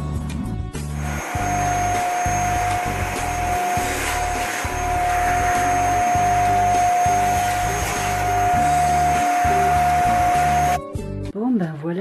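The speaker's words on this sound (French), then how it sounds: "qui passe l'aspirateur dans la voiture" Vacuum cleaner running inside a car, a loud, steady whine close by for about ten seconds, bumping and shifting as the nozzle moves, then cutting off and winding down, with voices talking over it.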